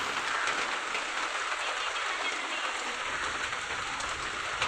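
Heavy rain pours down in a dense, steady hiss, loud and unbroken throughout, with no voices.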